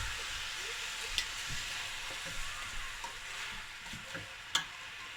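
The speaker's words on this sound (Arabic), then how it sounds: "انا نشحر البصله والدجاجه في دقه واحده." Onion and chicken frying together in oil for a paprika-style Moroccan roast chicken, a steady close sizzle with a few spoon scrapes and light clinks against the pan.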